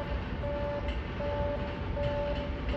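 A train arriving at track 3 of a Japanese station platform: a continuous low rumble with a steady electronic warning tone that pulses on and off several times. No talking.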